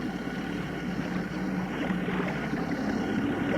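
Steady wash of water against a moving boat on Lake Urmia, Iran, with a low engine hum and some wind rumble, continuous and fairly close.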